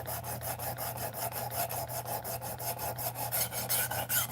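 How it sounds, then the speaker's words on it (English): Rhythmic rasping strokes of a newly made knife being sharpened for the first time, about five even scrapes per second that are fairly quiet and close, with a low steady hum underneath and no talking. "I just made this knife, and so this is the first time it's ever been sharpened"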